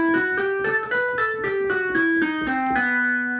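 A B Phrygian dominant scale picked on a guitar, about a dozen clear ringing notes climbing then descending in an even rhythm, close up with no other sound.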